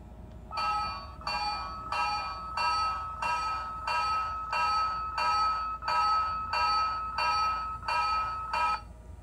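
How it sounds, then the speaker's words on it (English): A Lionel toy train bell on a Pennsylvania Railroad Congressional set, set off by the whistle button, rings steadily in a fast series of about twelve even, bright metallic pulses, loud and close with no talking. "With the switch in this position, the whistle button rings the bell."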